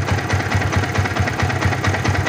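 A Yamaha Vixion motorcycle engine idles close by with a steady, throbbing low pulse and mechanical knock, running alone with no talk over it.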